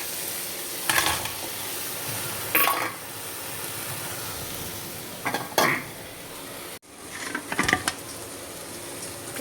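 Fish pieces and a splash of water go into a well-fried spice paste in a pan, giving a steady broadband sizzle with several louder bursts and scrapes of stirring, close up, with no talking.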